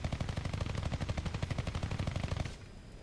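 Machine gun fire from a Turm III tank in War Thunder, a rapid sustained burst of close, loud shots lasting about two and a half seconds before cutting off.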